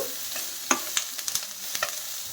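Capsicum and tamarind fry quietly in about a tablespoon of oil for a Telugu capsicum roti chutney. A soft sizzle runs under several sharp clicks and scrapes from stirring, with no talking.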